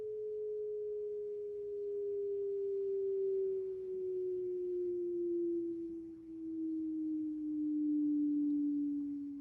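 A pure sine test tone sweeps slowly downward in pitch through a pre-amp filter, a single steady hum whose loudness swells and dips as it glides, heard alone without voices.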